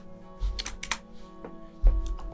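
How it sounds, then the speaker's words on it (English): Computer keyboard typing while designing an album cover: a few quick clusters of soft key clicks over a steady electronic hum, close and fairly quiet. "type out butterfly"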